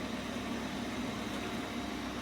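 Fan whirring inside an Electrolux EWX14450W integrated washing machine tumble dryer, a constant broadband rushing hum at steady level with no voices.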